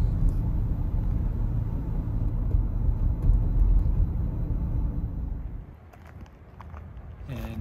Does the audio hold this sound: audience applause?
no